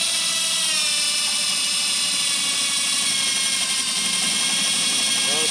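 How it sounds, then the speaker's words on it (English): A power drill fitted with a wood drill bit, used while converting a car into a truck, gives a steady, loud motor whine that runs unbroken for the whole stretch, with voices faint underneath. "I'm pretty sure that's a wood drill bit."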